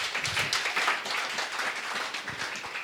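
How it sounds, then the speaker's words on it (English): Audience applause after a startup idea pitch at a tech meetup in Riga, a dense burst of clapping at close to middle distance, steady and fairly loud with no talking over it. "Let's give a big round of applause for Holy Buttons."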